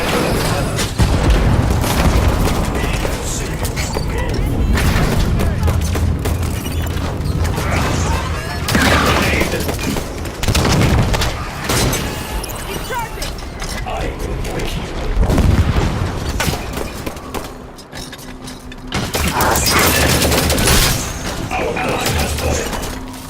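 Dense suppressive gunfire and explosions in a Halo shooter battle: continuous loud bursts, crashes and booms overlap for over twenty seconds, with voices speaking under the din.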